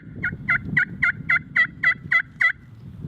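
A steady series of nine rhythmic turkey yelps from a friction call, each a raspy two-toned note, clear over low background rumble.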